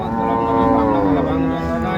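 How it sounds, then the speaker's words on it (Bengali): A dairy cow at a cattle market gives one loud, close, sustained moo that fills the whole moment. "এই পাশে তো দেখতেছি সব হাতির মতো গরু।"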